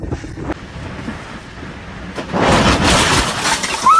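Windows shatter amid loud gusting hurricane-force storm wind, the crash arriving halfway through and a rushing, noisy roar continuing after it.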